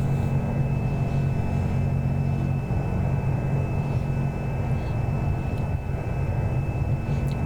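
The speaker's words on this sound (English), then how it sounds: "An Avanti. Never did like that airplane." Piaggio Avanti turboprop airplane engine in the X-Plane 11 flight simulator, a steady low droning rumble with a constant tonal hum, continuous and fairly loud throughout with no talking.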